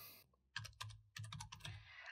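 A computer keyboard is typed on in two quick bursts of soft key clicks and taps separated by a brief pause. The sound is quiet and close, with no voices.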